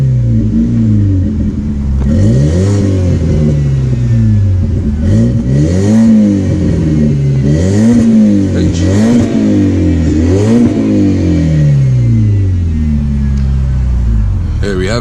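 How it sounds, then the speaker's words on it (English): A BMW 1 Series E88 convertible with M-Sport suspension, its engine revved repeatedly while stationary, loud close rising and falling sweeps in a steady rhythm throughout. "So this is what the car sounds like."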